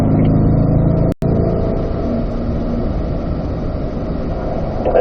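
A Corvette C8 race car engine roars loudly and steadily on a racetrack, with a brief sharp dropout near the start as it shifts down from fifth to fourth gear before the dense engine note resumes.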